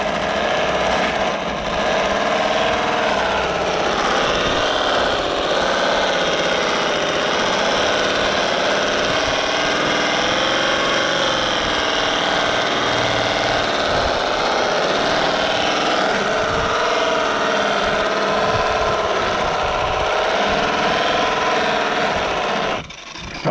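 A buffer polishing wheel works on custom Peterbilt 389 truck parts with green polishing compound, a steady loud whirring grind that varies slightly as pressure changes, continuous for over twenty seconds without talk.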